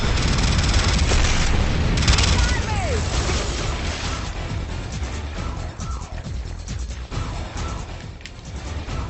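Rocket launcher blasts and heavy explosions in a rooftop battle in the shooter Renegade, a continuous loud barrage of booms and crashing impacts under game music and sound effects, with someone talking over the din.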